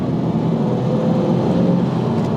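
Inside a 1996 Pontiac Formula Firebird under acceleration, a loud, steady low engine drone and road rumble fill the cabin without any talking.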